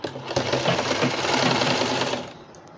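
Sewing machine stitching a newborn baby dress, a steady close whirring rattle running continuously for a couple of seconds before stopping, with no talk over it.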